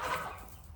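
A backyard chicken gives a short, close burst of clucking, heard alone for under a second.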